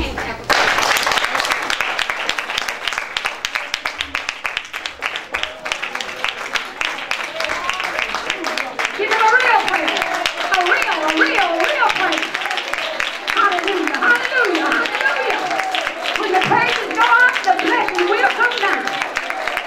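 Church congregation clapping hands in praise during a sermon, steady rhythmic hand claps running the full length, with voices calling out and singing over the clapping.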